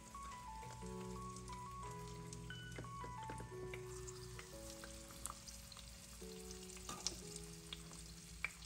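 An egg frying in a pan, a quiet steady sizzle with small pops under soft background music.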